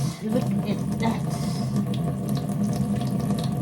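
Herbs are washed under a running kitchen tap, a steady close rush of water splashing into a sink, heard under a person speaking.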